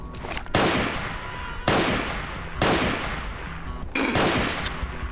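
Four loud, evenly spaced gunshots ring out in Bad Cop Simulator, each a sharp crack followed by a ringing tail, heard close and alone.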